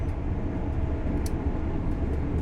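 An Azuma train running in Train Sim World 5 gives a steady, dense low rumble with continuous rolling noise and a few faint high ticks, close and unbroken throughout.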